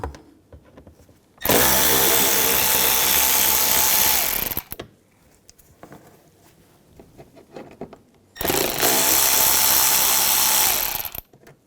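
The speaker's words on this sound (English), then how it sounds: "Now on the inner fender wells, we're going to take these screws out" A power tool with a T25 socket twice spins out inner fender well screws on a 2011-2018 Volkswagen Jetta, each burst a loud, steady whir lasting about three seconds, with quiet gaps between.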